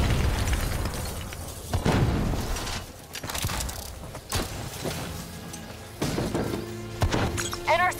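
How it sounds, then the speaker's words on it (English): Rogue robots detonate in Call of Duty: Black Ops III, a chaotic run of booming blasts, crashes and mechanical clatter in quick succession, loud and dense throughout. "They're about to detonate!"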